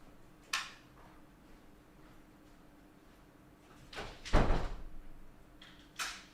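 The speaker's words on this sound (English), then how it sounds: "Let me just check and lock my door" A door closes with a sharp knock, followed later by a louder thud and rattle as it is shut and locked, then another brief click; quiet room tone between.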